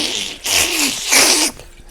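Tap water runs into a kitchen sink during washing up, coming in two steady rushing, hissing bursts separated by brief pauses, fairly close and loud, with no talk over it.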